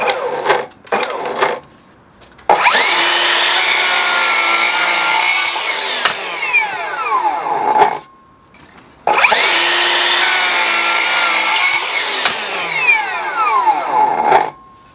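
Handsaw with a coarse blade cutting wood in a garden workshop, two long bursts of rough rasping strokes separated by a short pause, loud and close with no talking.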